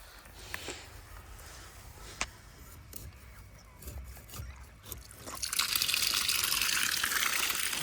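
Irrigation water mixed with biogas slurry flows into a farm field bed, first a faint low trickle with scattered clicks, then swelling into a steadier, louder gushing rush over the last few seconds.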